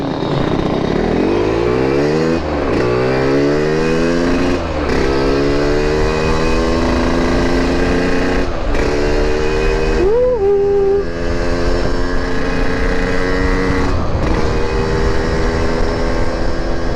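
Motorcycle on a night touring ride accelerates loudly and up close, engine pitch climbing through repeated gear changes with brief dips between shifts, steady and continuous throughout.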